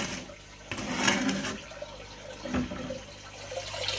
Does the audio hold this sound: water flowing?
yes